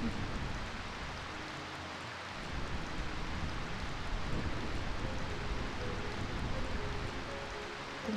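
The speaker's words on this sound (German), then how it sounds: "Welch herrlicher und köstlicher Regen." Rain falls in the video game Final Fantasy IX, a dense, steady hiss of downpour that swells slightly after a couple of seconds and continues alone, with no voices.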